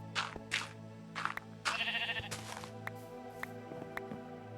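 A Minecraft sheep in a barn and wool farm gives several short, nasal bleats in a row, quiet and close, over a faint steady background tone.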